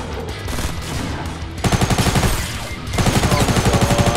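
Rapid mechanical firing bursts from a crossbow triple shot in Fortnite, loud and close, with a softer stretch before two dense runs of quick repeated shots.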